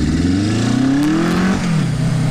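A motorcycle with freshly jetted carburetors and dual sport tires revs hard, the engine climbing and dipping in pitch in a loud, continuous close-up roar.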